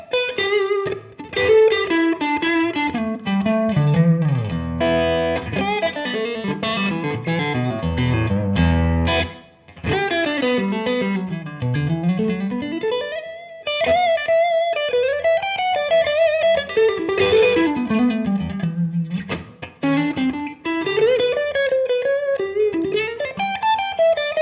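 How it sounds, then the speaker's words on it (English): PRS Silver Sky electric guitar on the neck pickup through a Wampler Euphoria overdrive with a touch of reverb, playing loud, continuous melodic lead lines with bends and sustained notes, alone without talk. "I'm going to use a Wampler Euphoria, and starting in the neck pickup, I've also got a smidgen of reverb on"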